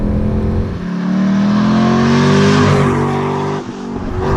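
2004 Cadillac CTS-V with an LS V8 revving hard, a loud, close engine roar climbing in pitch and holding, then briefly dropping before rising again.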